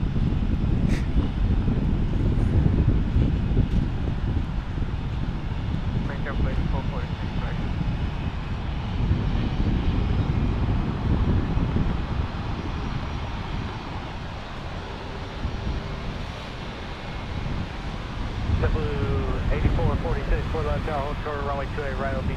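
Airliner on approach to runway 28 right at Fort Lauderdale International Airport, Florida, its engine roar rising and fading over steady wind noise, with someone talking at times and radio chatter.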